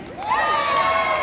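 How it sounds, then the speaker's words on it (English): A street performance crowd in Covent Garden, London, bursts into loud, close cheering and shouting with rising voices that hold steady to the end. "that, ladies and gentlemen, be your cue for clapping, cheering, screaming, whistling, etc."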